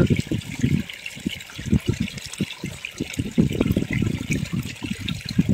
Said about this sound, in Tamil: கடாயில் போட்டு நல்லா தண்ணி ஊற்றிட்டு நல்லா கலக்கணும்